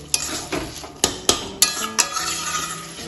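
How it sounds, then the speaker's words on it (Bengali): A spoon scrapes and clanks against a pan while cabbage ghonto with potatoes and prawns is stirred and mashed, giving several sharp metallic knocks in an uneven rhythm over a soft, steady cooking hiss, close and clear, with no talking. "আমি এবার একটু ঘেটে ঘেটে দেবো"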